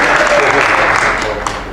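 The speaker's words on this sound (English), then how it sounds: "Let's give her a round of applause." An audience at a late-night kids' magic competition applauding a volunteer on stage, a steady wash of clapping heard up close throughout the brief moment.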